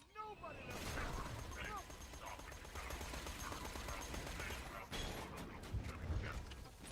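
Mortar bombardment in a video game, a dense continuous roar of explosions and rattling mechanical clatter. It carries on loud and steady with heavier booms near the end, and game sounds are layered over it.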